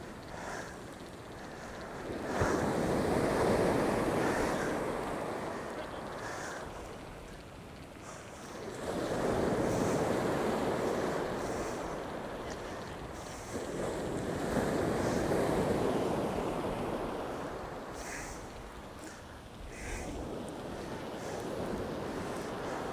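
Sea waves roll onto the beach at Withernsea on England's east coast as the sea calms, surging and receding in a slow rhythm about every six seconds, with steady wind noise buffeting the microphone.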